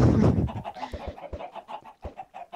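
Chickens in the video game Minecraft cluck in a rapid series of short, sharp clucks, close and fairly loud, following a brief burst of noise at the start.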